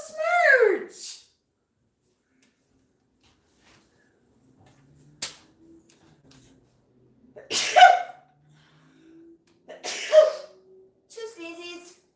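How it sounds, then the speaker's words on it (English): Two separate sneezes ring out several seconds apart in an otherwise quiet room, each a short, bright burst, with brief vocal sounds before and after them. "Two sneezes."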